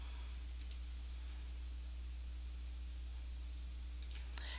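A computer mouse clicks while a WordPress widget is saved, two faint sharp clicks heard close, one early and another near the end, over a steady low hum.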